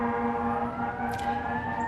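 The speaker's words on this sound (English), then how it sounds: "there's like a million sirens" Many sirens wail across town, heard indoors through open windows as steady, sustained tones that hold throughout, fairly distant but clear.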